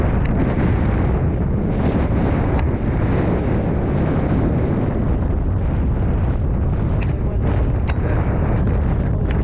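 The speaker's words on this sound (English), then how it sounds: "It's windy." Wind roars across a fishing boat on the water, a constant, loud, broadband rush that buffets the microphone with only a few brief clicks.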